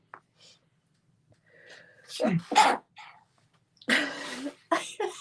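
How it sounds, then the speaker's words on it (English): A single sharp sneeze bursts out after a short inhaled buildup, close by, followed by brief speech. "gonna sneeze."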